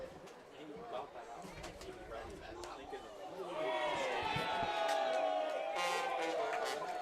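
Baseball fans at a Crabs game cheer and whoop after a foul ball flies out of play and hits a car; crowd chatter swells into sustained, fairly distant cheering with whistles partway through.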